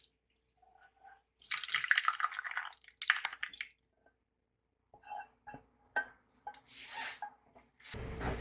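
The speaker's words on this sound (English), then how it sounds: "Now it's time to strain the milk curd by using the cheese cloves." Fresh milk curd, made with yogurt, strains through cheesecloth: soft, wet pours and splashy drips come in quiet, irregular bursts separated by near silence.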